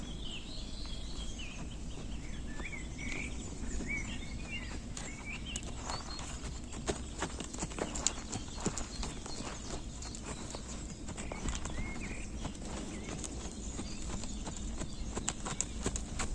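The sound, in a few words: horse hooves clip-clopping during riding lesson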